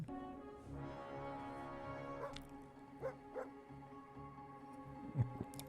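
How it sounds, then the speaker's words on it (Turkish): A dog barks and yips a few times in short bursts, with soft whimpers, over a steady humming background. "Haber kanalında bu sefer köpek çıktı"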